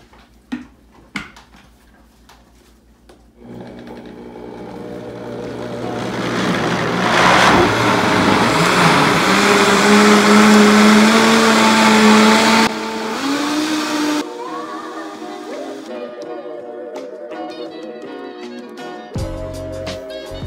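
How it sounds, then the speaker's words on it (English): A blender blending cauliflower, spinach and coconut milk soup: after a couple of sharp knocks, the motor starts up and roars loudly, rising in pitch and load, then drops to a lower whir before cutting off near the end. "And then we begin blending away."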